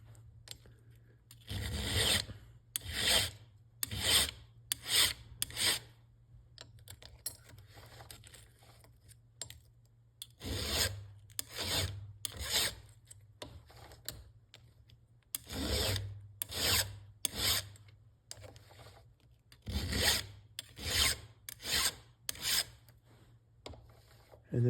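A chainsaw chain is filed by hand, producing short bursts of rasping strokes in groups of three or four, separated by pauses, close and fairly quiet.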